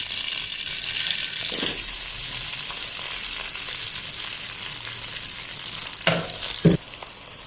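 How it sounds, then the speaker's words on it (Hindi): Onions fry lightly in ghee with a constant bright crackling sizzle close by, a few soft stirring scrapes and a brief splash of running water near the end, no one speaking. "प्याज जो है ना हम हल्का फ्राई कर लेते हैं।"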